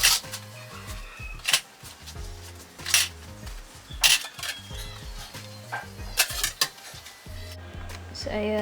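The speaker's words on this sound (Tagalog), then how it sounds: "naghugas ng pinggan" Dishes being washed by hand at home in Batac, Ilocos Norte: irregular clinks and clatters of plates and utensils, close and moderately loud, over a steady low background.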